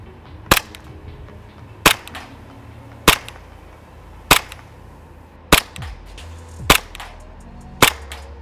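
EMG Strike Industries ARK airsoft gas blowback pistol firing on green gas through a chronograph, seven sharp loud cracks spaced about a second apart, each with a brief snap of the slide cycling, no talk.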